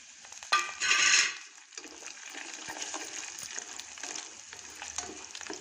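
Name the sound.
dry red chilli and curry leaves frying in oil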